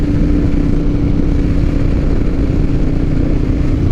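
A 2007 Harley-Davidson Night Train motorcycle engine held at high RPM, a loud, steady, close-up rumble with no clear rise or fall, running alone without any talk.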